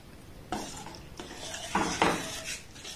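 A spoon scrapes and clinks against a metal pot while milk powder is stirred into milk, giving a few close, irregular stirring knocks and scrapes with no talking.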